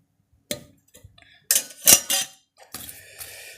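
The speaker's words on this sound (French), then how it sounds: "Et la seconde casserole ici, hop, qui est un petit peu plus grande." Stainless steel camping cook pots from a compact mess kit clink and clatter together, several sharp metallic knocks and rattles close up as a second, slightly larger saucepan is handled and set in place.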